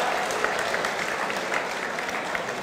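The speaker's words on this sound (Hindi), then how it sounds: "सब लोग मुस्कुरा भी रहे और ताली बजा रहे हैं" Audience clapping at a Hindi poetry recital (kavi sammelan) in the Shatabdi Bhawan hall at H.B.T.U. in Kanpur: a steady, dense patter of many hands, fairly loud and continuous throughout.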